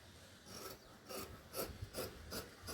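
Scissors snipping through blouse fabric, a series of about five soft rasping cuts in a steady rhythm, close and fairly quiet, with no talking.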